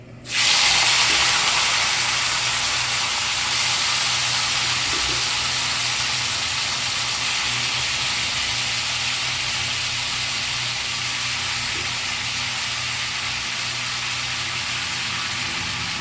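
Sliced ivy gourd and a dried red chili dropped into hot oil in a pan: a sudden loud sizzle that settles into a steady, unbroken hiss lasting the whole stretch.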